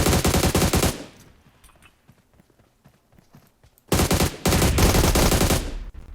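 Rapid automatic gunfire in the PUBG Mobile battle royale game, loud and dense for about a second, then a lull of scattered quieter clicks and steps before a second long, loud burst of sustained fire.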